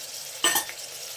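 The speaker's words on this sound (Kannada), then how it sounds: "ಫ್ರೈ ಆಗ್ತಿದೆ ಈರುಳ್ಳಿ ಕ್ಯಾಪ್ಸಿಕಮ್ ಹಾಕ್ತಿದ್ದೀನಿ ಕೋಸ ಹಾಕ್ತಾ ಇದ್ದೀನಿ" Onion, capsicum and cabbage frying in a pan: a short burst of sizzle and a stirring scrape as vegetables go in, over a faint background hiss.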